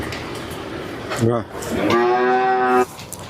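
A pregnant Friesian or Jersey cow lets out a short grunt and then a loud, sustained moo close by, with faint voices in the background.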